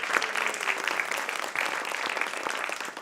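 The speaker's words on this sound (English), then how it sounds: "So let's give them a round of applause." Audience at a town hall meeting applauding, a steady, moderately loud patter of many hands clapping with a few distinct nearby claps standing out.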